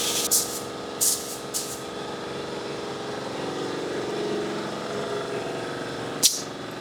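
A spray can lays high build primer onto an Arthas Lich King helmet in a few short hissing bursts near the start and one at the end, over a steady mechanical hum, close and fairly loud.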